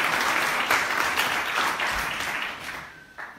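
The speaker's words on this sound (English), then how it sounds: "Please give them a round of applause." A town-hall audience at a board of supervisors candidate forum gives a sustained round of applause, dense clapping that fades gradually toward the end.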